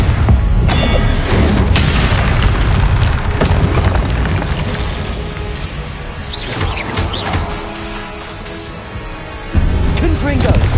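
Repeated Confringo blasting spell explosions in the Hogwarts Legacy video game, heavy low booms and crashes with whooshing bursts over about eleven seconds, loud and continuous, with voices and game chatter mixed underneath and a fresh blast near the end.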